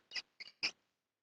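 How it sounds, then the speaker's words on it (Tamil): A mouse squeaks three times in quick succession in an indoor film scene, short, high and fairly quiet, with no other sound around it. "கீச்சு கீச்சுன்னு சத்தம் போடுது மாஸ்டர்."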